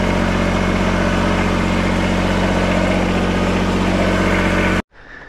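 A BX compact tractor engine idles steadily at close range with a loud, constant low rumble, cutting off abruptly near the end.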